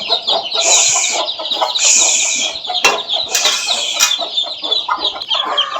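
Several chickens cluck and squawk close by on a rooftop in a busy, overlapping chorus, with sharp bursts of higher calls throughout.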